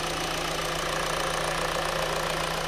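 The 2-liter engine of a 2017 Hyundai Elantra idles under the open hood, a steady, close, even hum with a faint rhythmic ticking and no talk.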